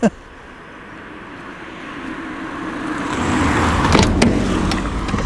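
A passing car on a road outside a parked 1978 Mercedes 450 SEL with its doors closed; a steady, muffled road rumble swells gradually as the vehicle approaches, loudest near the end, with no talking.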